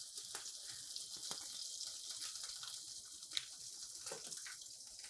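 Pecan-crusted white fish searing in oil in a pan, a faint steady hiss of sizzling with occasional soft pops and crackles, no voices over it.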